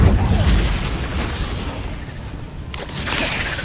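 A Stupefy spell cast in the video game Hogwarts Legacy: a heavy booming burst at the start that fades, followed by a second sharp magical pop near the end, both loud and close.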